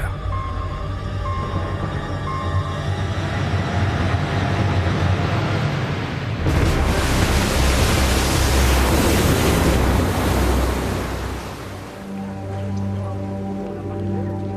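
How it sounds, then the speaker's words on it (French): Tsunami ocean waves rush in as a dense, continuous roar of surf, loud and steady throughout, swelling in the middle before easing slightly, with a low tonal hum beneath. "un tsunami qui produira des vagues très rapides, entre 500 et 1000 km/h"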